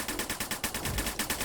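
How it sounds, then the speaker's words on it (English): Rapid bursts of gunfire in the VR shooter Snapshot at a championship match, about seven sharp shots in an even, fast rhythm, loud and close. "You can hear the gunshots in the background."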